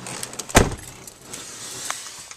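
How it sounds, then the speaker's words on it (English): A car door shuts with one sharp, close thud just after the start, followed by a faint jangle of keys and quiet rustling as someone settles into the car. "Getting into the car, getting into the car."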